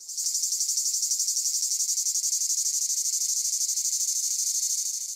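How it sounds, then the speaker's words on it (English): A cicada buzzes steadily for the whole stretch, its rapid timbal clicks fused into one loud, pulsing high drone with no other sounds. "All those clicks blend together into one big buzzing noise."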